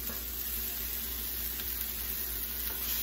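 Basil leaves and garlic sizzling in a hot pan while cooking apple and goat cheese pasta, a steady close hiss and crackle throughout with no voices.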